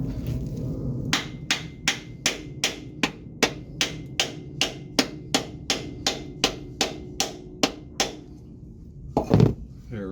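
A seal is hammered into place on a Duramax-powered square-body truck, a steady series of about twenty evenly spaced sharp metallic taps, close and clear, followed by a brief rustle at the end.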